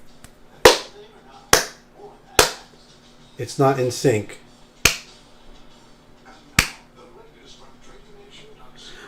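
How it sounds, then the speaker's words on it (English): Sharp single hand claps ring out about six times at irregular intervals in a quiet room during a live stream, with a brief stretch of speech between them. "Would you say the sound comes before or after my clapping?"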